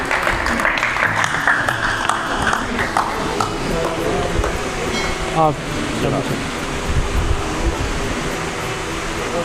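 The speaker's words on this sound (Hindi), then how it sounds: "आप सबकी भरपूर तालियों" An audience at an Urdu and Punjabi poetry gathering applauds as a ghazal poet is invited to the stage; a rushing wash of clapping with some voices and stage sounds mixed in, easing slightly toward the end.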